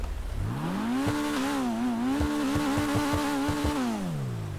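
In the video game GTA Online, the Pfister Growler car's engine revs up steadily, wavers through several shifts in pitch with short crackling pops, then winds back down, heard alone and fairly close.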